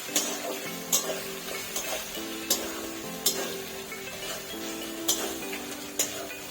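Chicken frying in a pan with chopped tomatoes and salt, cooked covered, gives a steady close sizzle broken by regular light taps and clinks about every second.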